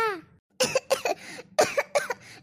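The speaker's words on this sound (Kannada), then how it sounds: "ನೋಡಪ್ಪ ಹಿಂಗೆ ಕೆಮ್ಮು ಬದ್ರನೇ ಐತೆ" A drawn-out vocal sound, then a brief silence, then a series of harsh coughs in two clustered bursts, close and loud.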